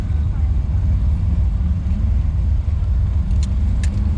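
A car engine drones steadily and close during an autocross run, a continuous low rumble with constant loudness and no clear shifts, over faint wind and road noise.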